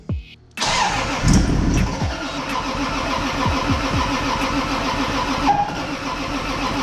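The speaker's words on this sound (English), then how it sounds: "see if we can get this thing started with a little throttle action" A 700 hp Toyota Supra engine with a standalone engine management system cranks and sputters while trying to start, giving a loud, near, steady rhythmic churning with uneven catches and no words spoken.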